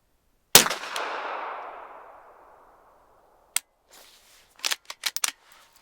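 A suppressed 9mm pistol fires once at a shooting range, a sharp crack with a long ringing decay that slowly fades, followed a few seconds later by a scatter of small metallic handling clicks.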